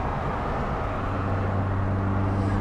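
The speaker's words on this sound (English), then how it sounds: "The turbo sounds amazing." Steady engine drone from a 196bhp Ford Fiesta RS turbo being driven on an A-road, with a low sustained hum and a constant turbo-laden tone filling the cabin, no talk over it.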